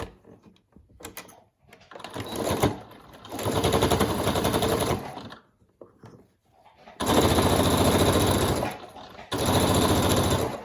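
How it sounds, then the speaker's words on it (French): A sewing machine stitches a fabric face mask made to a hospital pattern with a thick old bedsheet lining, running in several loud, rapid bursts separated by short pauses, with a faint mechanical whir between runs. "Je coupe et je viens refaire une petite couture pour"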